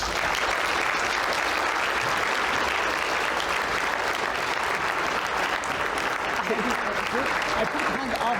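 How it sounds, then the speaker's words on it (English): An audience at a lecture on quantum physics claps steadily in a dense, continuous wash of applause that stays loud and even throughout, with faint voices mixed in. "please give Professor Nicole Bell a huge round of applause"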